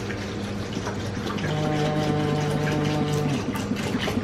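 A plastic jug being filled with water in a cheese-making class, a steady gushing, bubbling pour with a rising tone as the container fills, close and continuous.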